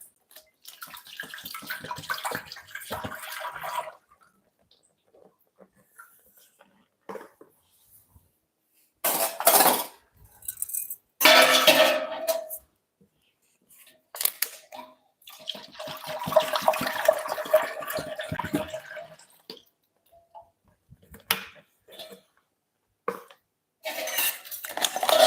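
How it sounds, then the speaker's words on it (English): Milk poured into a cooking pot for homemade vanilla ice cream, heard as several bursts of close liquid splashing and trickling separated by quiet gaps, with faint clatter of cookware. "I start by adding the milk"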